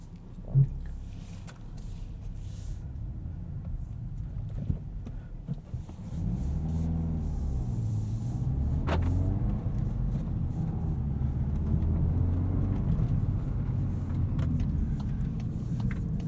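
A 2022 Volkswagen Golf R with a 6-speed manual, driven in comfort mode, gives a steady low engine drone and road rumble from the cabin. The drone grows slightly fuller partway through, with no talking.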